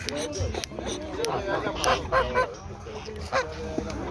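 Geese honk repeatedly in a noisy, crowded poultry market, their calls overlapping with ducks, other fowl and people talking in the background.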